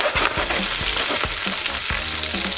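Aromatics tossed in a wok over high heat: a continuous close sizzle broken by regular metal spatula scrapes and knocks, busy and loud, no voices.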